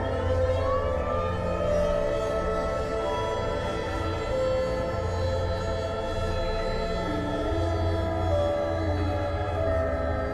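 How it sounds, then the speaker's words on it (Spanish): An old tornado siren wails continuously, its long sustained tones drifting slowly in pitch, loud and unbroken across the whole stretch with no voices. "Era una vieja sirena de tornado, una programada para marcar los últimos 5 minutos de luz del día"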